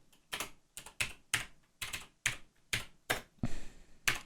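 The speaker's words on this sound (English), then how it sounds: "I keep on typing 2 L's and everything I do." Computer keyboard typing: about a dozen distinct clacking key strikes in an uneven rhythm, close and clear, with no talking over them.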